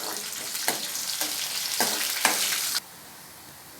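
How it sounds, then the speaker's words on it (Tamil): Cashew nuts and chillies sizzle steadily in hot oil for mint rice, with a few scraping stirs in the pan before the frying drops to a softer hiss. "முந்திரி பருப்பு இந்த எண்ணெயிலே செவந்து நல்லா வரட்டும்."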